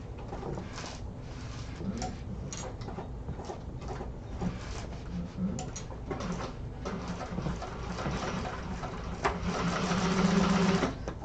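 A sewing machine runs steadily, stitching fabric for a 1/2 inch seam allowance, its fast rattling hum continuing throughout with brief pauses and a louder burst near the end.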